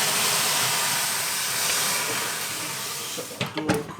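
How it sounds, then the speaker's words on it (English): A steady, loud hiss of steam poured into the bottom of an oven baking flatbreads fills the clip, then breaks into a few sharp bursts and clunks near the end. "I'm going to chuck a bit of steam in the bottom."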